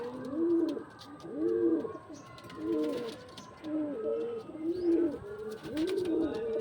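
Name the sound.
pigeons cooing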